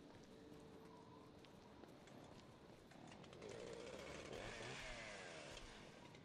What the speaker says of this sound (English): Alright, I heard a chainsaw.